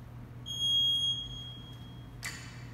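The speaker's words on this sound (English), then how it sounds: "I wait again until the beep goes" A workout interval timer sounds one sustained electronic beep, clear and fairly close, followed shortly by a brief clatter in an otherwise quiet room.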